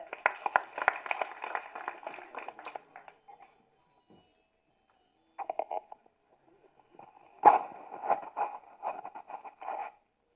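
Scattered clapping from a modest audience greets a writer invited to speak, bursts of handclaps that stop, pause in near silence, then resume in shorter patchy rounds, fairly faint and uneven.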